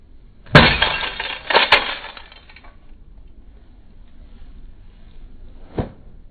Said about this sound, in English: the first glass that we cracked to show you guys